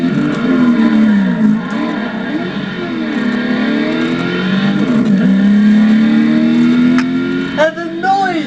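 A supercharged 5.4 litre V8 in a Ford Shelby Mustang GT500 revs loudly and close, its engine note repeatedly rising and falling in sweeping surges before a final sharp blip.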